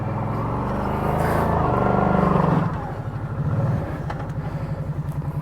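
An ATV engine drives up a YUTRAX TX204 extended trifold loading ramp, a steady low motor drone that swells, then settles into a lower idle-like chug near the end, close and fairly loud.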